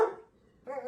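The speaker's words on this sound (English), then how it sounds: "his bark just made him perfect" A hound mix dog gives two short barks, one at the start and another near the end, close and clear with a quiet gap between them.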